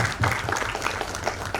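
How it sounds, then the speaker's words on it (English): Audience at the CRISP 2025 inaugural session applauding the arrival of conference guests, a continuous wash of clapping from a sizeable hall crowd. "Let's welcome them with a warm round of applause."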